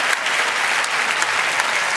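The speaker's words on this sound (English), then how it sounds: "Let's have another round of applause." A hall full of people gives a round of applause at the 2019 FIM MotoGP Awards, a sustained, dense clapping with a few crisp individual claps poking through.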